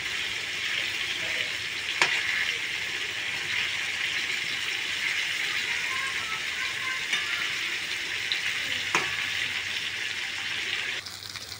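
Stuffed pointed gourd frying in a pan makes a constant, even crackling sizzle, with a couple of sharp clicks as the pieces are turned, steady and moderately loud until it fades at the end.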